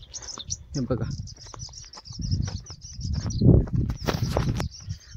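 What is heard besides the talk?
birds chirping on a farm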